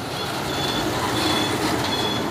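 A Hino Ranger tow truck reverses, its warning beeper sounding in short repeated tones over loud, continuous engine and road rumble close by.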